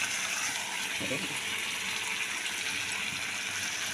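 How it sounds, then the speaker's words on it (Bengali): Water is poured into a pan holding mustard paste for a fish curry, making a steady, close rushing hiss with a brief gurgling splash partway through. "এবারে জল দিয়ে দিচ্ছি সর্ষেটা পেস্ট করেছি ওটা দিয়ে একটু জল দিয়ে দিলাম"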